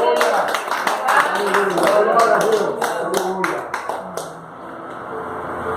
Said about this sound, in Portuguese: Então aplaude esse Deus poderoso.